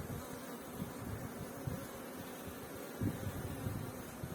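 A honeybee colony hums softly and steadily after a queen has been introduced into a queenless hive. Faint, close buzzing carries a few louder passes of individual bees.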